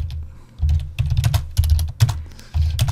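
Computer keyboard typing in quick irregular bursts of close clattering keystrokes, with short pauses between runs and no talking.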